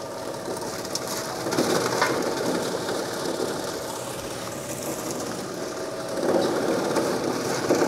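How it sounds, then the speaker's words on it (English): A crusher machine grinding sugarcane bagasse gives a continuous, dense mechanical roar that swells slightly at times, steady and fairly close, with no speech. "Okay, so that is the sound of crush sugarcane bagasse"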